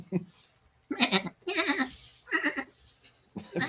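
A person mimics a dolphin noise with a series of bleating, goat-like vocal bursts, close and loud, broken by short pauses.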